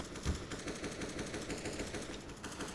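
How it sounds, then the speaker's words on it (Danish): Rapid automatic gunfire in a video game shooter, a fast steady stream of faint shots running the whole length with no talk. "Det var lidt heldigt, at jeg ramte det skud der."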